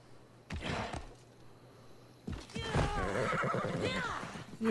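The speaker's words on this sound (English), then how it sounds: "Come here, stupid horse." Horse in the video game Assassin's Creed Odyssey giving a short whinny, then a longer, louder neigh over clip-clopping hooves, close and clear with faint background ambience.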